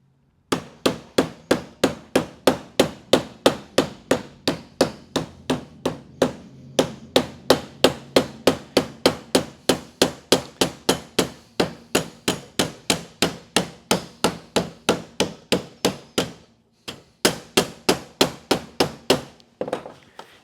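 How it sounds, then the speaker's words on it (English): A mallet hammers sheet metal for an Art Deco lamp, striking a narrow hem at a bending brake. Loud, sharp, evenly spaced blows ring out in fast steady runs with brief pauses, about three strikes per second, and no talking. "every strike ends up somewhere around the middle of the mallet"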